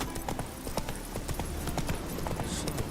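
Roach the horse trotting in The Witcher 3, hooves clip-clopping in a steady, continuous rhythm at close range against a dense game soundscape.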